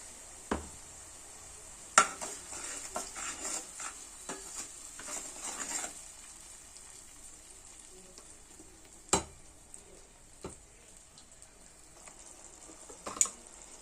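Tomato puree made from two medium tomatoes cooks in a pan with a faint, continuous sizzle, punctuated by a few sharp spoon or pan knocks.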